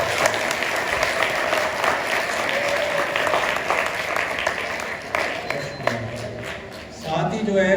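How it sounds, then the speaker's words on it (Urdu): An audience in a hall applauds after a Milad gathering, the steady clatter of many hands carrying on for several seconds before it thins and voices rise at the end. "میں آپ سب سے بولوں گا آپ ہمارے ایچ ایمس کے لیے تالیاں بجائیں"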